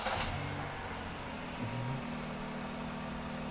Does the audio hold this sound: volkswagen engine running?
yes